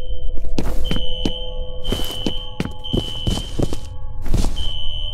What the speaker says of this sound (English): A fire alarm. It was triggered at a security office on that floor.